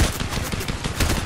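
Rapid gunfire in the Fortnite video game, a dense, loud burst of quick shots across a short moment with no talk over it.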